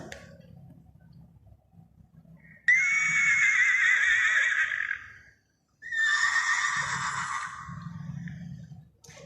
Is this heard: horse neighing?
yes